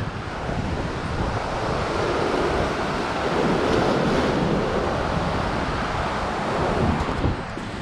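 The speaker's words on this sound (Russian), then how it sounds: "Сейчас вот такой идет накат волн." Storm waves rolling onto the beach at Ordzhonikidze in Crimea, a loud, continuous roar of breaking surf mixed with wind buffeting the microphone, steady throughout with no voices.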